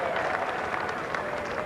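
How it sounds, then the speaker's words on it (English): Crowd at the Adelaide Oval cheering and applauding during a 1992 World Cup cricket match between Pakistan and England, a steady broad wash of clapping and voices with a commentator talking over it. "Gets the cheer from the crowd."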